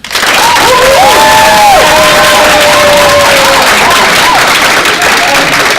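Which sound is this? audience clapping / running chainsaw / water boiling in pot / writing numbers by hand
audience clapping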